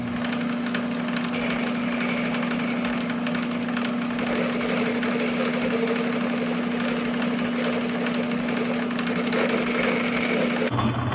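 A lathe cuts metal for a homemade Volvo Amazon brake drum puller, with a loud, continuous machining drone and a steady hum that carries on throughout, close up and without speech.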